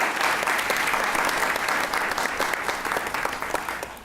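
A studio audience at a Haitian Creole talk broadcast claps in dense, sustained applause that fills the whole stretch, steady and close before easing slightly at the end.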